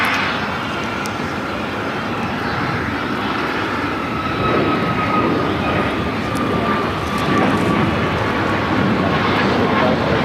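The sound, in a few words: American Airlines Boeing 777-300ER pushing back at LAX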